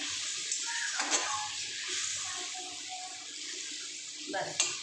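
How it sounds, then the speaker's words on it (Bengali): A little water is poured into a cooking pot of potatoes with turmeric and chilli. Short splashing bursts come near the start and end over a steady background hiss, while a voice talks. "অল্প একটু জল দিয়ে দিলাম অল্প একটু জল দিয়ে দিয়েছি"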